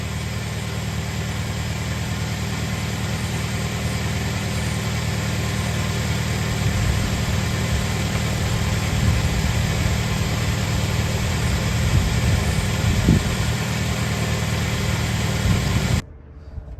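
A first-generation Toyota Tacoma with the 2.7L four-cylinder idles steadily close by, a constant low rumble with faint vibration that holds even for about sixteen seconds before cutting off abruptly.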